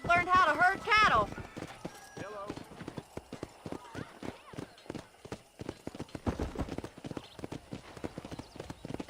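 Horse hooves clip-clopping in the video game Red Dead Redemption, a steady rhythmic run of hoof beats with a whinny at the start and someone talking over it.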